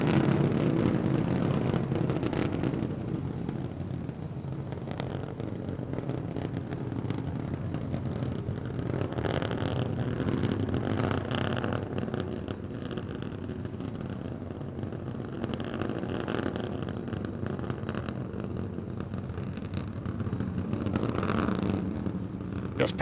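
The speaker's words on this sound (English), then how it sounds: "All 3 Raptor engines continuing to burn." Three Raptor rocket engines on a SpaceX Starship SN15 test flight burn as a steady, dense, broadband roar that holds constant throughout with no pauses.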